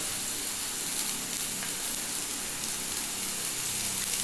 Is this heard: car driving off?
no